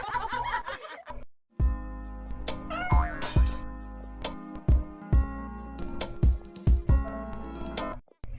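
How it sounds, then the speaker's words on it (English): Cats meow within a lively game soundtrack of music and punchy effects, with several short mews standing out near the middle among the background score. "Everybody gets to see the cats."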